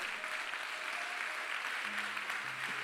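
A church congregation at an afternoon service claps in steady, dense applause that fills the whole moment at an even, sustained level.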